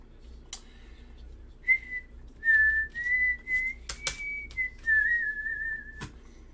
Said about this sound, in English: I'm going to try not to whistle too much, but man, it's got me.